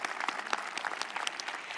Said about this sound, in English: Yes, we can applaud for them.